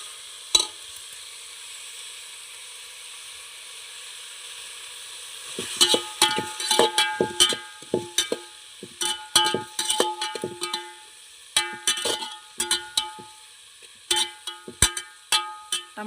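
Tomatoes and onions being stirred for a village-style chicken curry cooked over a wood-fired stove: a soft sizzle that turns into a busy run of sharp scraping and clinking strokes against the pot from about six seconds on.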